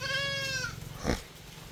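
A goat on a farm gives one drawn-out bleat with a clear harmonic stack, close and fairly loud. A softer, rougher animal call briefly follows it.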